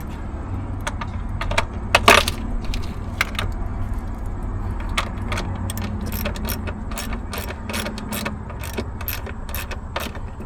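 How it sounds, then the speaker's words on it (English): A hand wrench tightens lug nuts on a Freightliner M2 106 Super C motorhome with a Cummins L9, giving close, repeated ratcheting clicks in bursts over a steady mechanical background hum, with a louder metallic clatter early on. "All right, they're all finger tight, so now I'm gonna tighten them with a wrench."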